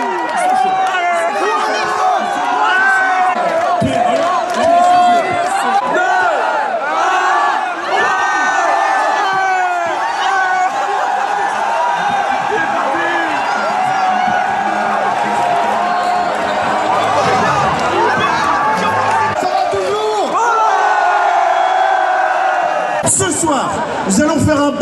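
A large crowd at a village gathering in Montcuq cheers, whoops and shouts without pause, loud and dense throughout, with voices yelling over the roar and a sharp burst near the end.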